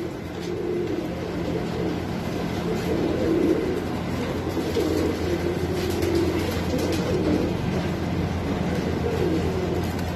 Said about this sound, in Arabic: هذني طيور رمانيات سعرهن خمسين ألف